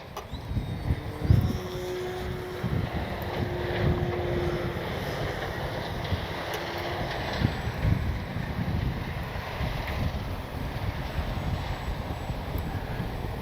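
Heavy wind buffets the microphone outdoors while an FMS Ranger 1220 mm RC airplane flies, making a loud, steady low rumble with gusty swells throughout and no talking.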